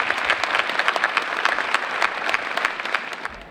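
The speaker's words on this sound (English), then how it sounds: "please join me in a round of applause for our past Mahone Foundation scholars" Audience applause at a scholarship gala honoring past Mahone Foundation scholars: dense, steady clapping from a sizable crowd, loud and sustained throughout.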